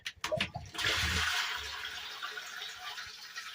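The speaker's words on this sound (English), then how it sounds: "I drain this line here to below that concrete level, about when that stops leaking." Water drains from the line of a vintage triplex pump system through a valve box, starting with a few knocks and splashes and then settling into a steady, loud rushing hiss that continues throughout.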